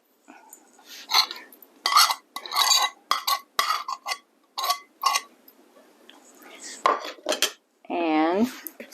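Butter cookie dough being mixed in a bowl, with repeated rhythmic clinks and scrapes of a utensil against the bowl, close and clear, followed by a brief throaty sound at the end.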